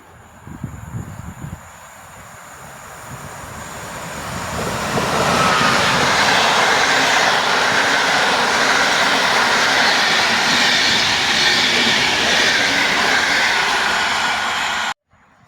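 A Gryf passenger train passes through Warszawa Włochy station in Poland. The sound starts quiet and swells after a few seconds into a loud, steady roar of wheels and rushing air that holds close until it cuts off.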